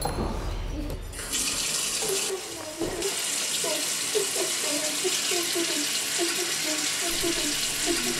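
A bathroom tap runs continuously while a child brushes her teeth in a short ecological film, a steady close rush of water with small splashing and bubbling textures throughout.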